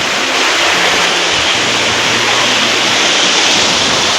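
Water flows steadily at a village temple site in Ratnagiri where people wash their feet, a loud, even rushing wash with no breaks and a faint low hum underneath.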